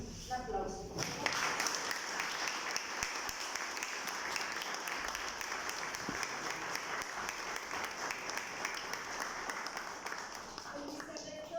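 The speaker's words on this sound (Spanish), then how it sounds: "Un aplauso." An audience applauds a university rector being introduced at an academic ceremony, a dense, steady clapping that swells after the first second and holds evenly to the end without voices.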